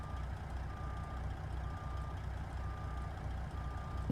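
Reversing beeps from a truck in American Truck Simulator, a W9A modular day cab backing toward a trailer: a steady run of evenly spaced electronic beeps, five or so, over a constant low engine rumble, no talking.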